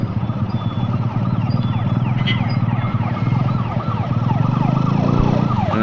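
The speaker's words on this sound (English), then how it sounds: "This is what people do when an ambulance comes by." An ambulance siren sweeps up and down continuously as it passes through busy traffic, loud and close over steady engine and road rumble, with a brief thump near the end.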